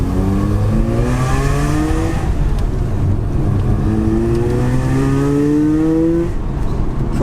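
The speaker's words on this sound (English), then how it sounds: "Proper raspy sound coming from the exhaust" A Mazda RX8 R3 rotary engine drives steadily with a raspy exhaust note, the pitch rising through the gears in long sweeps and staying loud and continuous throughout.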